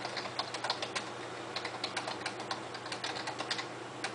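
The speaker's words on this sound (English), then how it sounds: "And that was me typing to you." Rapid typing on a computer keyboard, with irregular clusters of crisp key clicks at close range and steady rhythm, heard alone with no talking.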